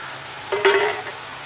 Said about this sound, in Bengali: পেঁয়াজটা নরম হলে টমেটো দিয়ে দিয়েছি এবার বাটা মশলাটা দিয়ে দেবো